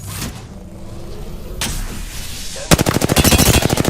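Enemy gunfire in the battle-royale game Apex Legends: a quiet stretch with a brief mechanical whir, then a loud, rapid burst of automatic fire with sharp, evenly spaced shots that keeps going to the end.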